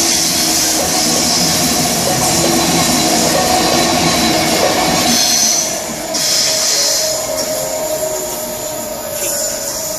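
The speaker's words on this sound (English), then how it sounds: "There goes 323-237 off to Manchester Piccadilly by Stockport" A Class 323 electric multiple unit pulls away from Cheadle Hulme station toward Manchester Piccadilly, its loud, steady rumble and rail noise filling the platform at close range, with brief wheel squeal.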